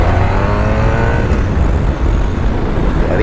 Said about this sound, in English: the engine's got a great note on here.